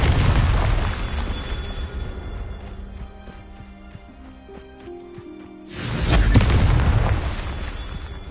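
Confringo fire spell explosions in the game Hogwarts Legacy, a loud booming blast at the start and another around six seconds, with a ringing magical tone between them.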